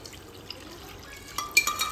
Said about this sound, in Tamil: ஓகே, இந்த தண்ணி நம்ம அப்படியே இதை ஊற்றிக்கலாம்.